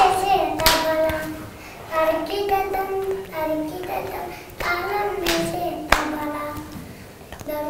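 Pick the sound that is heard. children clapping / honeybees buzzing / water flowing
children clapping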